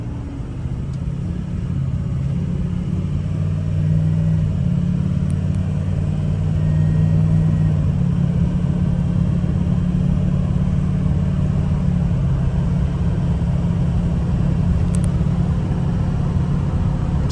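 A 2005 Ford Excursion Eddie Bauer with a 6.0L Powerstroke diesel idles steadily, a low continuous rumble close to the microphone with no talking.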